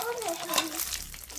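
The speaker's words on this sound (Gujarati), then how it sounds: "તો જો આમાં દાળનો વઘાર કરવાનો છે આપણે." Dal tempering (vaghar) sizzles and is stirred in a pan, a brief crackling hiss close by with a faint voice behind it.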